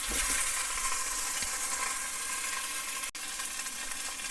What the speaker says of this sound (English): And just go ahead and put it in there, and we're going to brown each side for about 5 minutes.